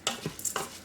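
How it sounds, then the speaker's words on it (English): Rice grains sauteed in oil inside an Instant Pot, with several quick close scraping stirs of a utensil and faint sizzling over a short moment. "Once that's in there, give it a quick saute."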